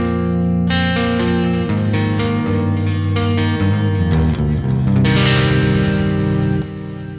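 Electric guitar played through a BluGuitar AMP1 amp with a little reverb and a soft noise gate, ringing sustained distorted chords and moving lines that sound loud and close, continuous and without talking, with a lighter ring-out at the end.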